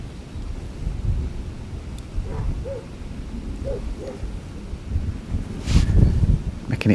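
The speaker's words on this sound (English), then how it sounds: "Making it hard to hold that float still with this wind" Gusty wind buffets the microphone across a lake at a fishing match, a low rumbling roar that swells and eases with a stronger gust near the end, with faint faraway sounds beneath it.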